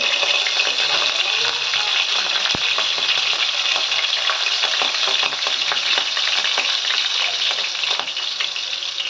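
Green chillies fry in hot oil in a pan for a mutton curry, giving a loud, constant close-up sizzle with bubbling crackle and a single sharp tick partway through.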